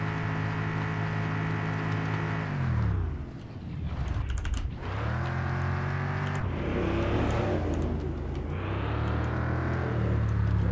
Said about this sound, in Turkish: arabanın sesiyle beraber dışarıdan da bir motor sesi geldi